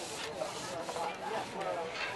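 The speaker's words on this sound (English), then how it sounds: "now it'll spin round between the centres when I work the treadle here" A treadle-driven pole lathe turns a piece of wood between centres, and the spinning workpiece gives a close, steady rubbing and scraping with slight pulsing swells across the short clip.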